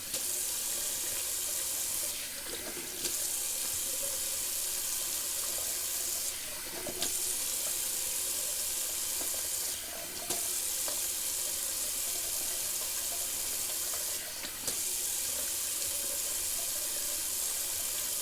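Water runs steadily from a tap into a sink, a constant hiss with a few brief pauses where the flow is interrupted, close and alone with no talk.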